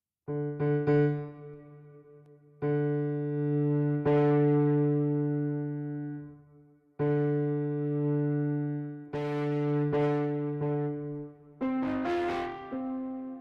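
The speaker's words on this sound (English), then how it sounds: "I'm going to overdrive this." Overdriven distortion on a song intro: gritty, saturated guitar-like chords strike and sustain in separate bursts, loud and alone, with a busier flurry of notes at the end.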